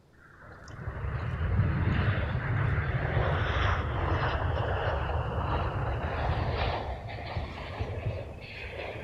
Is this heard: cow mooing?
no